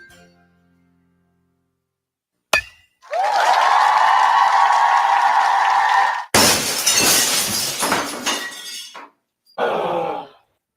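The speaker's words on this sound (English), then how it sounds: "When the thrill of playing ball turns into the agony of a broken windshield or car window" Car windshield glass shatters loudly, a sustained crunching burst for several seconds, then a second harsh crash of breaking glass, with trailing clinks and a brief final tinkle of fragments.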